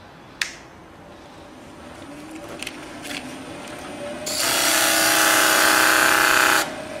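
A wooden skew pommel spins on a wood lathe while being sanded. After a few clicks and taps, a loud, close, steady hissing drone of abrasive on rotating timber runs for about two seconds, then stops.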